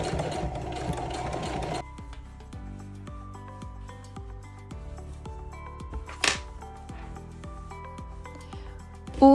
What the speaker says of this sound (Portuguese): Você pode fazer essa costura na mão se preferir, mas eu consegui fazer na máquina